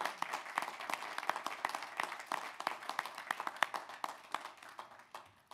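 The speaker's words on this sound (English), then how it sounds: "Let's give you all a big round of applause." A crowd applauds at an in-person commencement ceremony, sharp individual claps forming a brisk, uneven round that gradually thins out toward the end.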